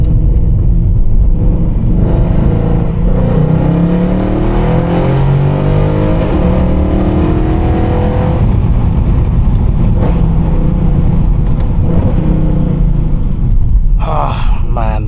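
A Mercedes-Benz C63 AMG W204 sedan, 460 hp with a seven-speed AMG Speedshift gearbox, accelerating hard from inside the cabin, its loud continuous engine roar rising in pitch through the gears and ending with a brief shift blip.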